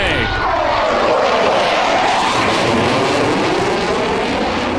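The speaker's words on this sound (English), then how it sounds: "out of the Moose Jaw Air Base, we have an F-18 fighter jet" F-18 fighter jet flyby over a NASCAR race track near Moose Jaw, a loud, close roar that swells and sweeps past for several seconds.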